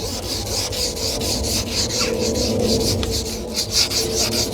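Wet sanding a car headlight lens by hand with a sanding pad, pushed straight back and forth, gives a steady close-up rasping rub with regular strokes and no talk.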